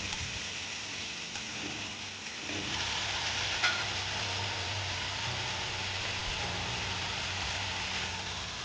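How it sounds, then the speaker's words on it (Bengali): Small chopped pieces of chicken frying in oil in a wok, a dense, continuous hiss that grows slightly louder partway through, with occasional scrapes and no speech. "ছোট ছোট কুচি করে রাখা মাংস কড়াইয়ের তেলের মধ্যে দিয়ে দিলাম একটু ভালোভাবে ভেজে নিয়ে"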